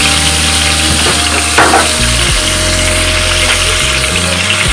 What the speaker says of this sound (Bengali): আমি চারটে চারটে করে মাছ ভাজা করে নেব।